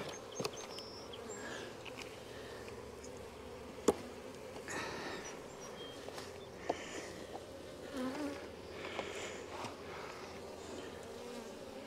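Honeybees buzz steadily around an open ten-frame hive during an inspection, a continuous close drone with occasional soft knocks and scrapes of frames being handled.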